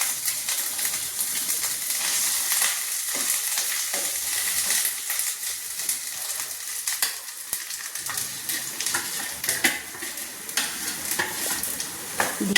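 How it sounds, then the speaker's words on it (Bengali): Chana dal filling with spices being stirred and fried in a pan, a dense continuous sizzle with rapid scraping and tapping of a spatula against the pan, close and steady throughout, no speech. "আমি এটাকে নেড়ে নিচ্ছি পুর করে নিচ্ছি ছোলার ডালটাকে আমি মশলা দিয়ে পুর করে নিচ্ছি"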